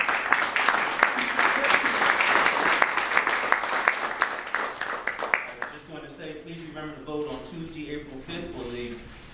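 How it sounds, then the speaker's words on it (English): Audience applause at a trustee candidate forum in the Park Forest Library, a steady, loud wash of clapping that fades near the end as a voice begins to speak over it. "since you've already given them all a round of applause"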